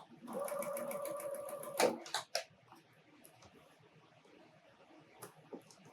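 A sewing machine stitches a quarter-inch seam on an appliqué snowman block in one short, rapid burst that stops abruptly, followed by faint handling clicks.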